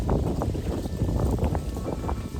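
Steady wind gusting through an autumn garden as maple leaves fall, a loud broadband rush buffeting the microphone continuously throughout with no voices.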